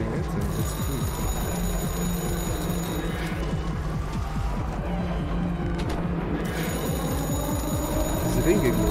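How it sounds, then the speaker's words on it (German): In the horror game Anthology of Fear, a telephone rings in rapid trilling bursts that drop out briefly midway and resume, moderately loud over a low rumbling background, while someone talks over it. "das Telefon klingelt, dann ist es gut."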